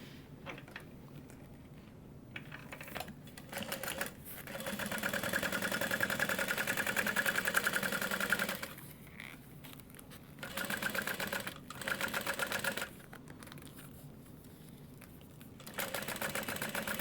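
Sewing machine top stitching along a folded seam of a Petite Taylor Tote bag, steady whirring runs in several bursts with short pauses between, close and alone.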